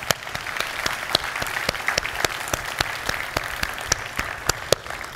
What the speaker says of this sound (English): please join me in a round of applause in thanking the speakers on this panel